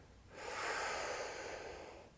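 A slow, deep breath drawn in and released during a lower-body yoga stretch, a single long airy exhale swelling and fading over about two seconds, close and soft with no talking.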